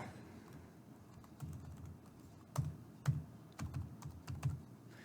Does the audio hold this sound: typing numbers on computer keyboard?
yes